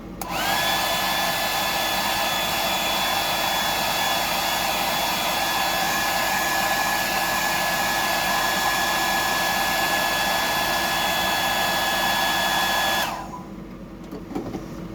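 A loud, steady whooshing blow with a high whine, running nearly continuously, then cutting off abruptly near the end.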